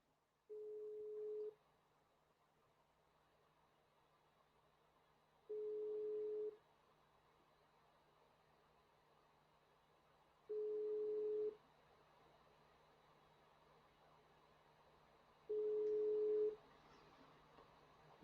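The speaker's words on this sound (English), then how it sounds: "Okay, his number is ringing from my end." Ringback tone on an outgoing phone call: four evenly spaced steady tone bursts, each about a second long and roughly five seconds apart, with quiet line hiss between and no talking.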